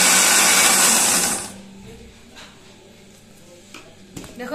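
A kitchen mixer grinder blitzes slices of bread into breadcrumbs, a loud dense whir for about a second and a half that then cuts off, leaving quiet room sound with a few faint knocks.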